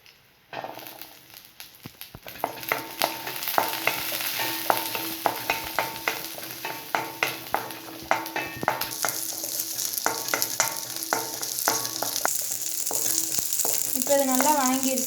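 Onions and garlic fry in oil for a hotel-style mint chutney, with rhythmic scraping strokes of a spoon against the pan over a constant sizzle that grows louder toward the end.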